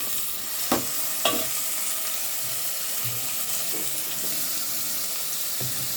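Chopped onion, green chili and garlic sauté in a pan, giving a steady low sizzle. A few scraping stirs of a utensil come through, with no talk.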